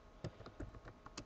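A Linux command typed on a computer keyboard, heard as about eight quick, soft, close key taps in an uneven rhythm, with no talking.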